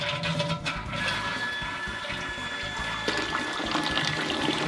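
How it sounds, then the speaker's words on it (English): A household toilet flushing, with a steady rush and gurgle of water draining through the bowl that stays loud and close for several seconds. "Now, when you flush the toilet"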